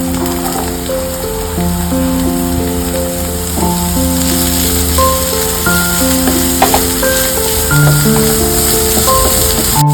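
Beans and carrots for a veggie burger sauté in a pan with a steady, loud, crackling sizzle that continues without a break. Tonal background music plays over it.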